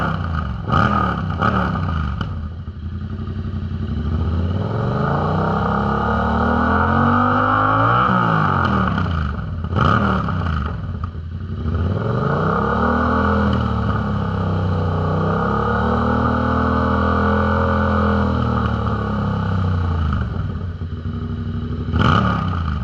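A 2021 Yamaha MT-07 motorcycle with a Toce exhaust idles and revs, very loud and close, its throaty engine note rising and falling in long sweeps and cracking sharply between revs.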